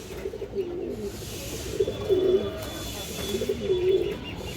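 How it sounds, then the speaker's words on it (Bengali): A male pigeon gives three close, low cooing calls over a faint background hiss. "একটা চুইনা নর কবুতর আছে মাশাআল্লাহ, একবারে পুতুলের মতো একটা নর"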